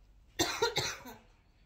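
A quick burst of three harsh coughs, fairly close, trailing off into quiet.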